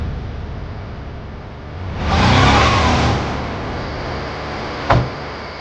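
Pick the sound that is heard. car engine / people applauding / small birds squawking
car engine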